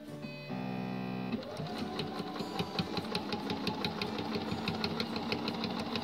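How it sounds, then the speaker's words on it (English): A Bernina sewing machine with a bias binder foot stitches binding onto fabric, giving a steady, close, rapid mechanical whirr with regular needle clatter after a brief tonal start. "as I start stitching, I just kind of keep this up at a nice angle"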